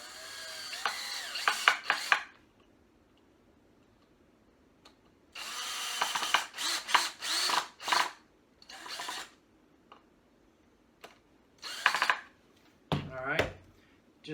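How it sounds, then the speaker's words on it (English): A power drill drives the supplied screws through pre-drilled holes to fix a turkey fan mount, sounding in several short, close bursts with quiet pauses between them. "Line those up, and we'll go ahead and drill those in."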